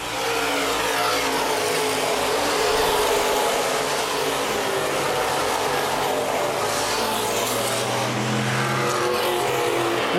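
Open wheel modified race cars battle for position on a speedway oval, a continuous loud roar of several engines under race conditions with no voices, swelling slightly as cars pass.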